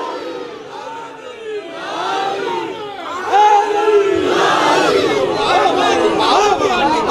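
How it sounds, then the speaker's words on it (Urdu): A crowd at a religious gathering raises hands and shouts together in a loud rising chant, a dense roar of many voices with cheering peaks, close and sustained throughout. "دونوں ہاتھ بلند کر کے حیدری"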